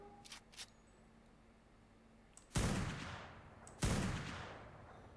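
Two loud gunshot blasts in the video game Ark: Survival Evolved, each ringing out with a long decaying tail, after a few faint clicks; no talking.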